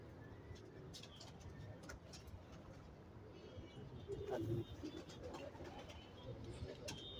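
A red-eyed pigeon walking about on the ground gives soft, low coos, faint and partly buried under nearby voices and background rumble.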